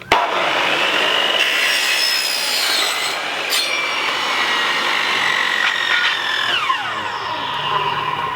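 A compound chop saw cuts through aluminium roof tent tracks with a loud, sustained metallic shriek that slides downward in pitch as the blade winds down, with no speech.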